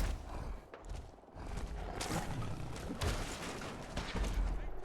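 Shotgun fire in the video game Fallout 4 during a fight with raiders or super mutants, heard as a few muffled booming blasts and thuds at moderate loudness over a busy background.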